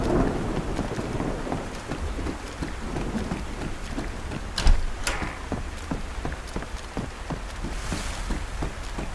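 Rain falls steadily in a DayZ video game rainstorm, with one sharp close thunder crack midway, a distant rumble, and a constant patter of drops throughout.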